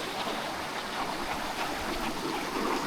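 Shallow stream water, roughly six or seven inches deep, rushes steadily over rocks along the Indian Rockhouse Trail in Arkansas, a close and continuous broadband flow.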